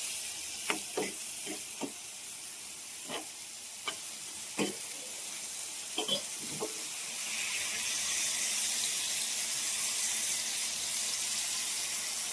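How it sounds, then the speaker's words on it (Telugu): Fenugreek leaves are rinsed under a running kitchen tap, a steady close water hiss with scattered sharp clicks and splashes from handling the greens, the flow swelling louder toward the end. "మెంతపు కూర ఇలా కడుక్కోవాలి నీట్గా"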